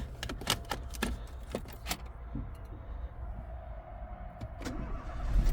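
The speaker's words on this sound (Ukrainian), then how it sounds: "заводиться і глушиться з кнопки автомобіль" A few sharp clicks and taps as a push button is pressed, then a Renault Megane engine cranks and turns over, settling into a low idle that swells near the end.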